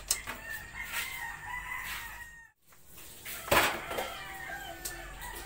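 Pet chickens cluck and a rooster crows on a farm, bursts of fowl calls at moderate distance over outdoor ambience, with a brief pause midway and a louder squawk afterward.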